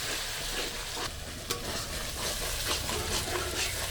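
Spice paste for a jackfruit curry stir-fries in hot oil in a pan, producing a loud, continuous sizzle with a few soft scraping stirs and one sharp tap near the middle.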